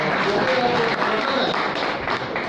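Audience applause at a school event where teachers' rankings are announced: dense, steady clapping fills the whole stretch, with a little crowd noise mixed in.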